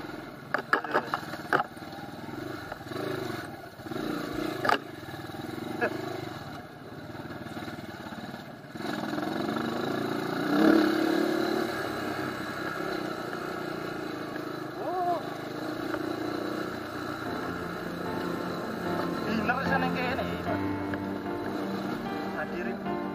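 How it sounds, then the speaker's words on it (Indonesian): Honda CRF 150 trail motorcycle engine sputtering and revving at medium distance, uneven and rough, with people talking over it throughout. "Kerepet-kerepet ya nih motor."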